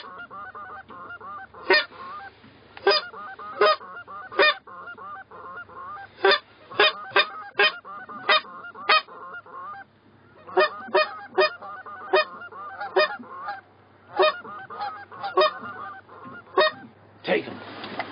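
Canada geese honk and call over and over, loud sharp bursts spaced irregularly above a steady low murmur of calling, with a denser flurry of honks near the end, likely mixed with goose calling during a hunt.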